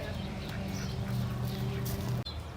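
Quiet duck quacks from a garden duck pond recur through a constant outdoor background, low and somewhat distant, ending with a brief click.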